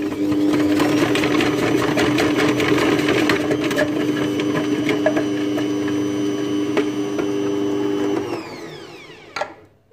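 A Bosch multi-purpose food processor runs at speed level 3, slicing potatoes, with a steady loud motor whine and chopping rattle for about eight seconds before it winds down and stops, ending in a brief clatter.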